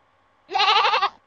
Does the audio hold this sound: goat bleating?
yes